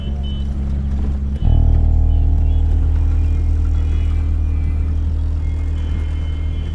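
A car being driven, a steady low engine rumble and road noise that steps up louder partway through and then holds constant, close and continuous with no voices.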